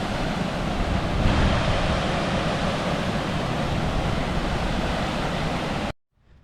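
Waterfall at Falls Park in Sioux Falls roaring as a loud, continuous broadband rush near the bottom fall, steady throughout before cutting off abruptly at the end.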